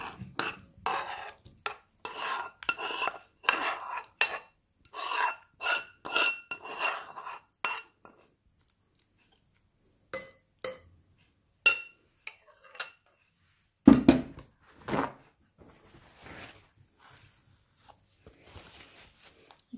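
Curry being moved from a pan into another pot, a series of scraping spoon strokes and clinks against metal in bursts, with quiet pauses between them and no talk.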